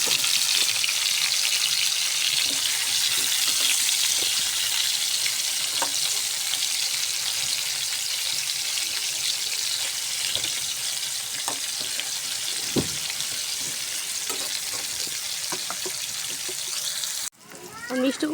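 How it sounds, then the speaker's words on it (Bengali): Pumpkin pieces seasoned with turmeric and salt frying in a hot pan, a dense continuous sizzle close up with occasional stirring clicks, ending with a brief drop and clatter. "মিষ্টি কুমড়াগুলো সুন্দর করে ভাজে নিয়েছি বেগুনের মতো"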